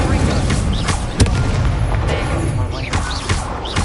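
Incendio fire spell cast in Hogwarts Legacy, loud dense bursts and booming impacts layered over continuous game sound, with a sharp hit around the middle and repeated whooshing blasts.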